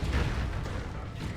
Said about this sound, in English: Was that a drop pod coming in?